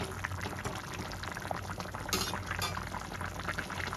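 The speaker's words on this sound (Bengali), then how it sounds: "এবার ভালো করে ফুটিয়ে নেব।" Katla fish curry with potato bubbles at a steady boil in a pot, a constant soft simmering fizz and gurgle heard alone with no talking.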